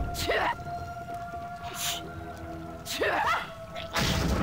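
Two sharp sneezes in a row, each a short burst about three seconds apart, heard over a quiet hum with a steady tone.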